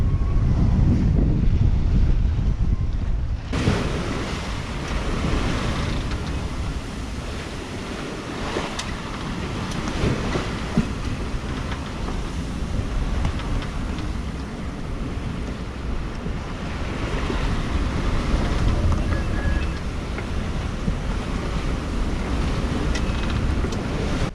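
Heavy Atlantic seas wash and surge around a sailing boat underway in strong wind, a continuous roar of surf and gusting wind buffeting the microphone, with no voices.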